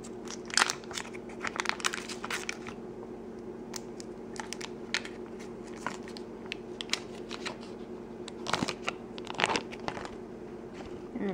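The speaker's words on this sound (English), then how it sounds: "unwrap the butter anyway" Butter being unwrapped from its paper wrapper in a kitchen while making macaroni and cheese: soft, irregular crinkles and rustles come in scattered bursts over a faint steady background hum.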